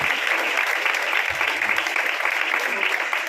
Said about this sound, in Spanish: Dale ese aplauso fuerte